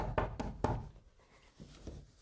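Police knock on a door in a game scene: several sharp knocks come in two quick clusters, close and fairly faint, with no speech over them.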